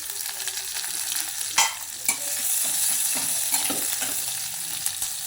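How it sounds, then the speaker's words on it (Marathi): Cumin seeds and green chilies sizzling in homemade desi ghee for a sweetcorn breakfast dish, a steady bright hiss with a few sharp pops and stirring clinks, continuous and close with no voices. "गावरान तूप आपण टाकून घेऊया जिरे टाकून घेऊया त्याच्यात हिरवी मिरची टाकायची"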